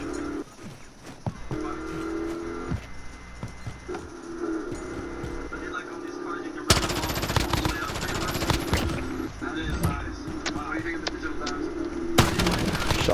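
Gunfire in a Modern Warfare Gun Game match, with rapid bursts of shots and booming shotgun blasts against a continuous game backdrop, while a player talks intermittently.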